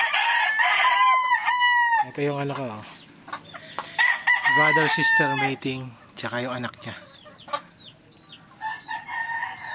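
A John Bishop Kelso gamefowl rooster from brother-sister inbreeding crows loudly and close, then clucks and calls in short bursts, while someone talks over and between the calls.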